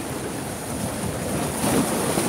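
Surf surges at Pangandaran beach in a brief, loud rush of breaking water mixed with wind noise, swelling slightly toward the end, with no voices.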